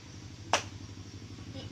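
A single sharp hand clap in a classroom counting game, standing in for a number, heard once over a steady low hum with a faint later tap.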